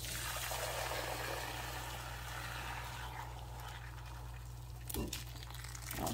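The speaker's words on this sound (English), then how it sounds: "We're gonna drain it directly into our bowl." Broccoli stock draining from a pot into a bowl after cooking, heard as a steady liquid pour and trickle with a low background hum, and a brief clatter near the end.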